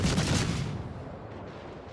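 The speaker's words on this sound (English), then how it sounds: "Des Moines, yeah, he's fired his first salvo off there" A Des Moines cruiser in World of Warships fires a gun salvo, a loud booming blast that rolls off into a fading rumble within about two seconds, with no voices over it.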